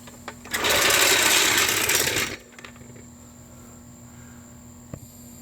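A jack lowers a 2011–2019 Ford Explorer after its brake pad job, giving a close, loud rushing whir that lasts under two seconds and then stops abruptly, followed by a faint clink.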